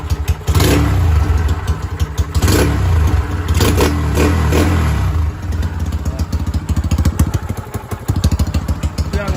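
A Honda Sonic 125 motorcycle with a tuned engine revving hard in repeated bursts, a hand cupped over the exhaust to muffle and choke the note; close and loud, with a rough idle between blips.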